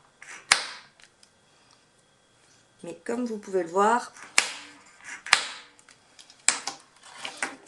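Holes are punched through paper for a handmade notebook, giving a few sharp, loud clacks spaced apart, with a brief rattling burst in between and someone talking over it.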